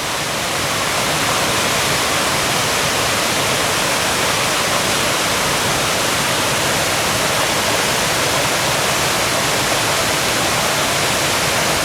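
A big waterfall in the Blue Mountains gushing hard after rain, a steady, loud, broadband roar that stays even and unbroken throughout with no voices.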